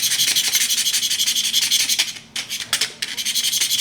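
A knife blade scraping across the glossy side and back of a 2018 iPad Pro, a steady close-up rasping rub that runs continuously, then breaks into a few shorter strokes near the end.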